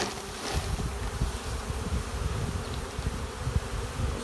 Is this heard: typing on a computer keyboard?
no